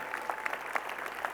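Audience at a high school graduation clapping, a short patter of scattered hand claps at moderate distance, fairly faint and fading as the crowd settles.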